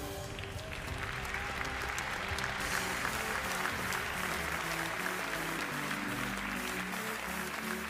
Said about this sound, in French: je crois qu'elle mérite un tonnerre d'applaudissements.